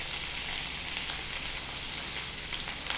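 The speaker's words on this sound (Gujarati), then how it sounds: "આખો ભીંડાને ચીરા પાડીને સુધારેલો છે તે નાખવાનો છે" Whole slit okra frying in oil with turmeric and salt, giving a continuous, even sizzle at moderate level without pauses or voices.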